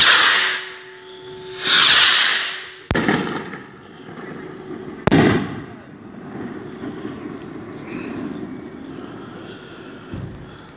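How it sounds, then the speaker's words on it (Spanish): Skyrockets go off at a village festival in Langa, with whooshing launches followed by two sharp loud bangs, then a lingering rumble and a fainter pop, outdoors and near. "Estamos acabando una gruesa de cohetes."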